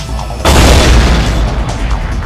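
A loud deep boom from a bomb in the Super Stardust HD video game's bomber mode bursts in after a short quiet lead-in and rolls on as a sustained roaring blast, with no voices.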